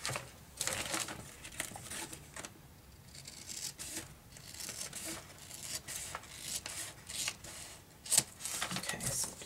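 Paper being cut by hand with scissors for an envelope journal, quiet close snips and crinkling rustles in irregular bursts, with occasional handling noises.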